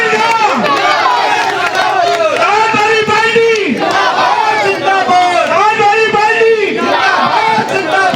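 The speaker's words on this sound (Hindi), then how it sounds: "जोरदार तालियों की गड़गड़ाहट से" A crowd at a Samajwadi Party political rally at a Pilibhit crossroads roars and cheers loudly, with raised voices and whistling over continuous crowd noise.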